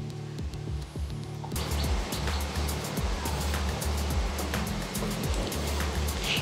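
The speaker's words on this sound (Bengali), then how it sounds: "এখানে কিন্তু তেলটা খুব বেশি গরম করিনি, তার মধ্যেই ঢ্যাঁড়সগুলো দিয়ে দিয়েছি" Chopped okra sizzling as it goes into mustard oil that is not yet very hot, a dense, steady crackle and hiss that jumps up after a quieter start and holds loud and close to the end.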